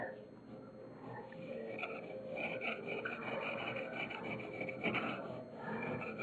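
A quick-set coat on a sheetrock wall is shaved down flat with a hand tool, giving a continuous close scraping and rasping that carries on steadily for several seconds, with a voice talking faintly underneath.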